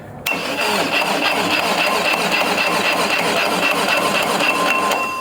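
A 2332cc EMPI VW engine turns over on a high torque starter, a loud steady whirring crank that runs without catching for about five seconds, then cuts off abruptly.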